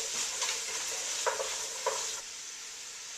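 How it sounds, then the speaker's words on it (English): Celery being stirred in a soup pot for kale and lentil soup: a soft, steady sizzle with a few light scraping strokes of a spoon, quiet and close, with no voices. "So the celery goes in. Stir it around, get it all nice and coated."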